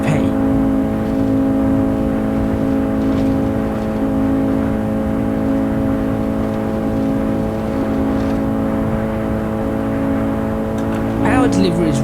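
A tiny 1980s Audi Sport Quattro with a five-cylinder engine hums steadily at sustained revs while lapping the Nordschleife in Assetto Corsa. The drone stays loud and smooth throughout, and a brief rising whine comes near the end.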